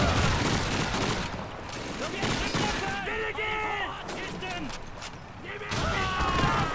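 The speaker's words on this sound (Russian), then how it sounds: "Пулемет." Machine gun fire in a World War II shooter, Call of Duty 2, rattling in dense bursts through a chaotic battle mix with explosions, while someone talks over it throughout.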